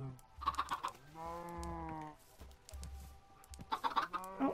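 Chickens in a Minecraft survival game give several clucks and drawn-out squawking calls, fairly close and clear, with short bursts at the start and end and a longer call in between, over a quiet game background.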